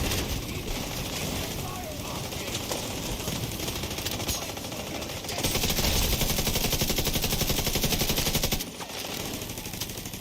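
Automated turret in the Division 2 video game firing steady rapid bursts of gunfire, a dense rattling barrage that swells louder midway and keeps going for the whole stretch with brief pauses.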